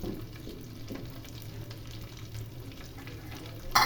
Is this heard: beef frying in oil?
yes